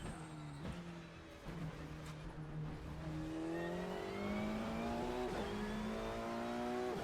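A GT-MX Macca V8 race car in the Assetto Corsa racing game revs and accelerates through repeated upshifts, its engine note climbing in pitch again and again, loud and steady throughout with no talk.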